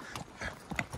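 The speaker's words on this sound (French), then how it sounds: "Du coup les gars, je suis à cheval." Hooves of a ridden horse clip-clop in an irregular walking rhythm during a countryside trail ride, soft and close with some faint rustle between the steps.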